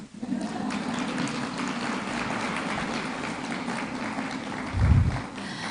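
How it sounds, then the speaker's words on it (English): Audience at a conference clapping, a dense continuous patter of many hands at moderate distance, holding steady before a brief louder bump near the end. "I'm done, you can clap."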